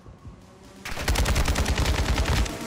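Enemy NPCs firing through walls in Call of Duty DMZ: a rapid automatic burst of gunfire kicks in abruptly and rattles on steadily for about two seconds, loud and close, with no talking.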